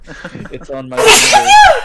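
A person gives a single loud, sharp sneeze right after someone speaks briefly nearby, close to the microphone during a tabletop game session.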